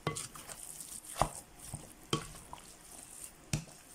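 Ground pork for homemade luncheon meat is mixed by hand, giving soft squelching and sticky slaps with a few sharper thumps, close and quiet, no talk.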